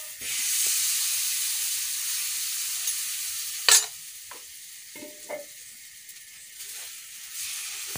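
Lauki paratha batter sizzles on a hot tava with a steady hiss and a few sharp crackles and taps as it is spread.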